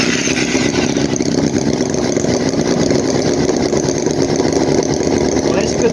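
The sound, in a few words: Chinese vintage Holt H75 four-cylinder model engine starting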